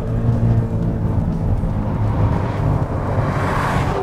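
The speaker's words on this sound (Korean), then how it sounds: "브레이크 페달을 떼면은 차량은 정말 쏜살같이 튕겨져 나가게 됩니다." A 2019 Maserati Levante Trofeo roars as it launches hard from a brake-held start, a loud continuous low rumble with rising whine as it accelerates away.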